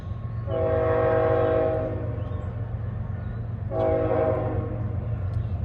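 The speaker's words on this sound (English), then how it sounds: "Good morning, train." A passing train sounds two long horn blasts, the first lasting over a second and the second starting a couple of seconds later, over a steady low rumble of rail traffic.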